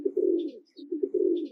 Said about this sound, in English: little fluffy white pigeon